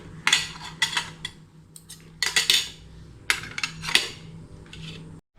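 Spoons and cutlery clinking against plates at a breakfast of hot sabudana vada, several bright metallic clinks and scrapes in irregular bursts, close and fairly loud, with no talk.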